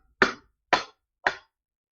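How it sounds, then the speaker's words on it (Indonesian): Three sharp hammer knocks land at even intervals, each a crisp close thwack with a short decay, alone against silence. "yang ada bunyi palu gini tuh"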